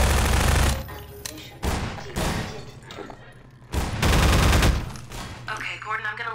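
Gunfire in Half-Life 2: several loud bursts of rapid shots separated by short pauses, close and punchy, with a faint voice briefly underneath near the end.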